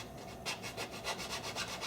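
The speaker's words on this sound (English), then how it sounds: "we just go through the long, boring process of sanding cork rings" Cork rings for a custom fishing rod handle are sanded by hand in rhythmic back-and-forth strokes, about seven soft raspy passes heard up close after a quieter start.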